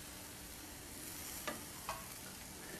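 Meat searing in a hot pan gives a soft, steady sizzle, broken by two brief scrapes as it is moved about.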